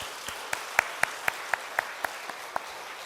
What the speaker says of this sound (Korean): 우리 크게 한번 경제 박수 하겠습니다